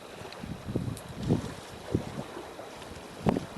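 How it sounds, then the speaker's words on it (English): Sailboat underway in about 10 knots of wind, with steady wind buffeting on the microphone and soft splashes and knocks of water against the hull rising and falling, no talking. "We're pootling along in 10 knots of wind."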